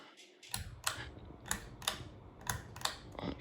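Fan pull chain switch on a 36-inch Hampton Bay San Marino ceiling fan, clicked repeatedly in a steady series of sharp, close mechanical clicks with a soft rattle between them.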